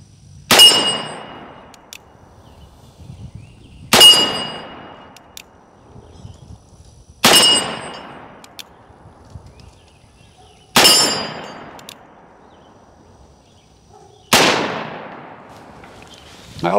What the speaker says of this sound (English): we are going to get some shots down range